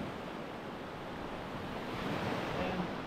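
Waves wash steadily onto a beach in Crete near Chania, a soft broad rush of surf with some wind noise, fairly faint and continuous, swelling slightly toward the end.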